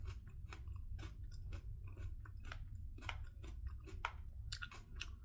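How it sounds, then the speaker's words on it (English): Close chewing and crunching of a bite of fruit and vegetable salad with pears, apples, capsicum and broccoli, steady crisp bites and munches running throughout with no talk. "I'll mix it all up and enjoy a bite of the salad."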